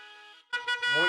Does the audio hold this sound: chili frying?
no